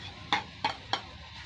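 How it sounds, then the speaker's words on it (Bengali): Ginger garlic paste stirred into browned frying onions in a pan, three sharp scraping strokes of a spoon over a faint steady sizzle, close and quiet, no voices. "পেঁয়াজটা লাল হয়ে গেছে, এবার আমি দিচ্ছি আদা রসুনের পেস্ট।"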